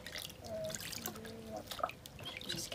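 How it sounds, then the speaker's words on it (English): Water drips and trickles faintly nearby during a baby orphan monkey's first bath, with soft splashes and small droplet plinks scattered throughout. "So it's actually Minnie Max's first ever bath"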